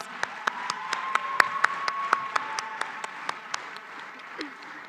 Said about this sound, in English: Clap hands for yourselves.